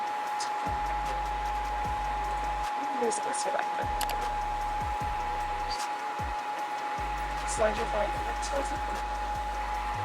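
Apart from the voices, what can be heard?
hair dryer blowing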